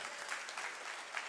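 A church congregation claps together in a steady, even wash of applause, moderately distant and filling the room, with no talk over it.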